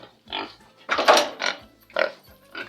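Several pigs grunting in short, separate bursts close to the microphone, about five grunts over a few seconds with brief pauses between them.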